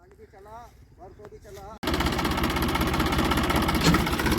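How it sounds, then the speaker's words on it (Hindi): A tractor engine starts abruptly and then idles with a loud, steady rapid chugging rumble; voices are heard briefly just before the engine fires. "ट्रैक्टर स्टार्ट कर लिया है"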